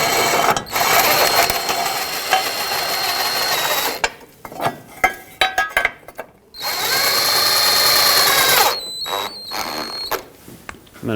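Power tool running bolts into the sway bar bushing brackets on a 2012-2017 Toyota Camry, loud whirring bursts with short stops and clatter between runs, no talk.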